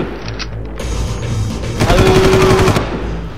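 Rapid mechanical gunfire from a gun turret in the video game Far Cry, a loud sustained burst with a whirring mechanical rattle running underneath.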